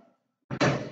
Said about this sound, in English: and closed the door